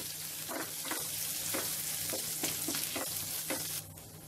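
Cashews fry in a pan over a medium flame for Dasara katte pongali, with a steady sizzle under repeated soft stirring scrapes spaced about half a second apart, close and even throughout, and no voices.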